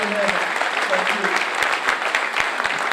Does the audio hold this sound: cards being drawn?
no